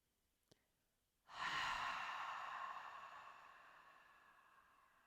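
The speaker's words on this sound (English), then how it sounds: "Breathing in through the nose and out through the mouth." One slow, close breath drawn in through the nose and let out through the mouth as a long, airy sigh that gradually fades, heard alone in a quiet room during a calming yoga session.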